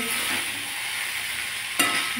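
Noodles frying in a lightly oiled wok while being stirred, a steady broad sizzle with a couple of brief louder scraping stirs near the end; no talking.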